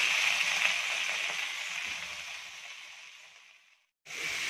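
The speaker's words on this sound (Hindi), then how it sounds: "मैंने इसको 5 मिनट भून लिया।" Chicken frying in a pan with chilli sauce for dry chilli chicken, a loud hissing sizzle that slowly fades, cuts out briefly, then returns at full strength.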